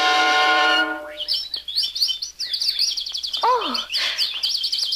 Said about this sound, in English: Oh, only little baby birds and squirrels and bunnies.